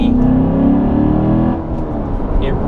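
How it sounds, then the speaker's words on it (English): Deep engine growl from a 2014 Chevrolet Corvette Stingray with the Z51 package and performance exhaust, a loud steady rumble that eases slightly partway through. "it really makes a good growl, and we have the performance exhaust in this vehicle."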